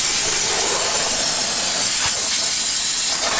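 Compressed air hisses loudly and steadily as it blows water off a polished forged wheel, a continuous close rush with a brief sputter midway.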